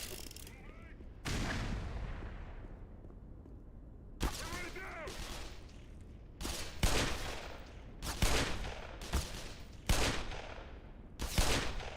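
Heavy video game gunfire comes in loud, separate booming blasts, about seven shots spaced a second or so apart after an opening burst, with no one talking.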